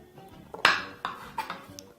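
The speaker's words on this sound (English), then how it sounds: "So we're going to start off by quickly just chopping these up." A knife chops onions, garlic and spring onion on a board for meatballs, giving a handful of sharp, irregular knocks close by with no talk.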